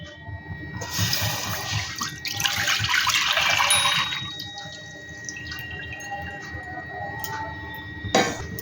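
A litre of milk poured into a nonstick pan, a close continuous liquid pour and splash lasting a few seconds, then quieter handling and a sharp clink near the end.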